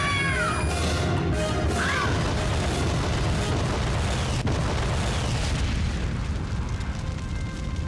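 A loud, sustained film explosion of a house blowing up, with heavy low-end roar and crackling debris, continuous throughout with a sharp burst partway through.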